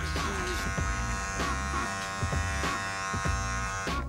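Hair clippers fitted with a number one guard and the taper lever closed buzz steadily and close up through a haircut, a continuous electric drone with slight swells as the blade moves through hair.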